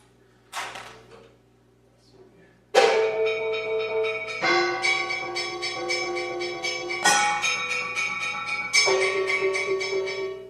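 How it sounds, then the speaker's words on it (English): Resonant metal percussion from David Lang's The Anvil Chorus, with a few isolated bell-like strikes followed by a sequence of ringing, overlapping metallic hits that each sustain long shimmering tones, alone and fairly close. "so you still hear that resonant metal in the top"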